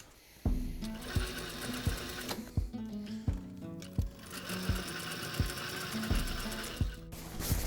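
A sewing machine stitches a seam through a down jacket, running in steady bursts with sharp mechanical clatter and periodic thumps, fairly loud and close with no talking.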